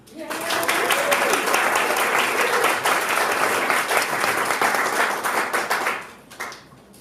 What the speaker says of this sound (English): I want you all to clap